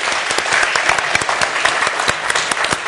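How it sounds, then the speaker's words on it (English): Audience applause at a policy forum session welcoming a South Korean National Assembly member, dense steady clapping from a full room throughout, fairly close and loud. "Please welcome him with the big applause."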